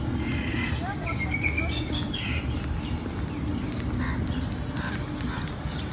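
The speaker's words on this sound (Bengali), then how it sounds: "প্রকৃতির খুবই সুন্দর একটা শব্দ পাওয়া যায় এখানে। পাখির কলতান," Birds chirp in short, scattered high calls by the sea at Changi Village, Singapore, over a steady low background wash, with people talking nearby.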